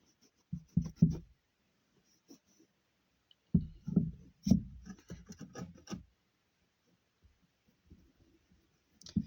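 A hand rubs oil or wax into leather driving moccasins, working around the welt. It gives bursts of close, dry scratching and rubbing strokes separated by pauses, fairly quiet, with no talk.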